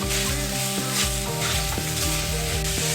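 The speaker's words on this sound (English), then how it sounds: "we're just going to cook this bacon up till it gets brown" Bacon frying in a pan while being stirred, a dense continuous sizzle close up with faint scrapes of the utensil through the crackle, no speech.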